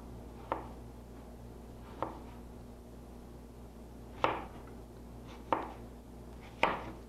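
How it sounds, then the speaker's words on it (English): Knife chops slice through food on a cutting board, each cut about an eighth of an inch thick; five sharp, isolated strikes fall at uneven intervals of one to two seconds over a quiet room hum, with no voices. "And you're cutting them all at once."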